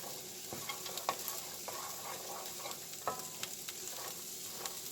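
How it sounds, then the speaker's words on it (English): Hamburger meat fries in a pan with no butter, giving a steady close sizzle broken by scattered small pops and crackles, with no voices. "just want to fry just a little bit, just to give the hamburger some taste"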